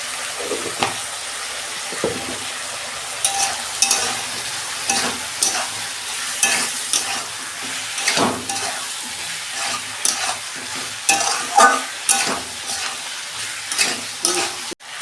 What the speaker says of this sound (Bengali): আমি ভালো করে মশলাটা একটু কষিয়ে নিয়েছি।